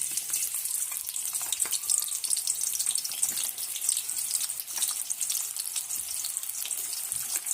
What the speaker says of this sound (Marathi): आता त्यात आपण कांदा घालून व्यवस्थित भाजून घेऊ